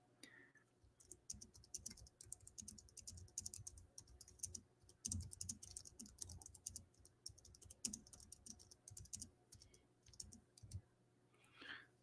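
Typing on a computer keyboard: a steady run of light, rapid key clicks in irregular bursts for about twelve seconds, close and quiet, with no voices.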